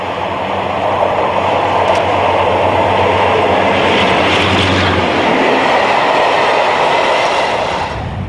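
A Class 60 diesel locomotive hauling a freight train, with a second locomotive dead in the train, passes at a junction. Loud, steady rumble and broadband roar of wagons rolling by, fading at the very end.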